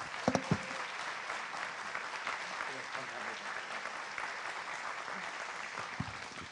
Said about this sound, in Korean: 여러분 축하의 박수를 해주시기 바랍니다.